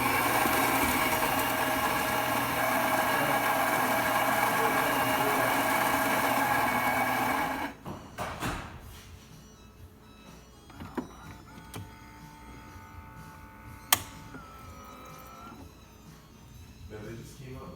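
A Saeco espresso machine with a newly replaced pump runs a test shot, a loud steady pump drone for about eight seconds that then cuts off, followed by quieter clicks, drips and a few sharp knocks.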